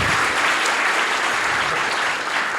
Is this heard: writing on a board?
no